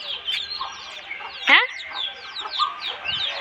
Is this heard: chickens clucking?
yes